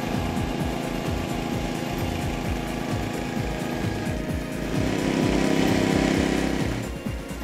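A greensIRON 3900 golf green roller runs steadily on a course, its small engine giving a loud, continuous buzzing drone with a rough pulsing low rumble that swells slightly toward the end.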